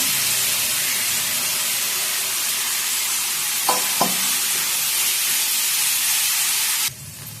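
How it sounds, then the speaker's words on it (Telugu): Soaked dried fish frying in hot oil with turmeric and ginger paste, a steady loud sizzle running throughout with a couple of brief clinks of a utensil, then the hiss drops sharply near the end. "ఎండు చేపలు నూనెలో ఫ్రై అయినాయి."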